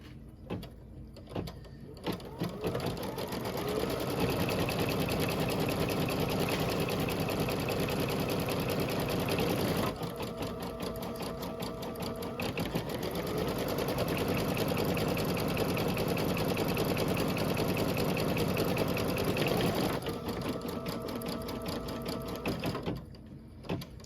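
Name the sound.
embroidery sewing machine stitching a buttonhole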